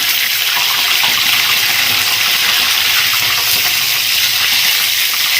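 Curry leaves dropped into hot oil for aval pongal sizzle and crackle in a continuous, loud hiss that stays close and unbroken for several seconds.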